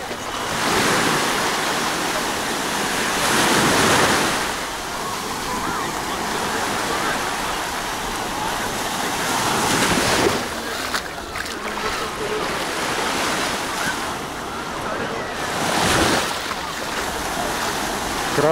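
Sea surf rolls steadily onto the beach at Avsallar, a broad continuous wash of breaking waves with periodic louder surges, wind noise mixed in and no speech over it.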